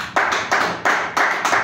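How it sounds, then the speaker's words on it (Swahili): A church congregation claps in unison, five loud, evenly spaced bursts of hand claps close by, with no talk over them. "Wacha tumpigie Bwana makofi mazuri."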